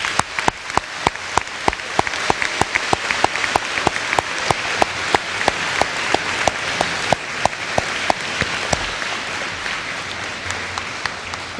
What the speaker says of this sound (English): join me one more time in giving our guests today a round of applause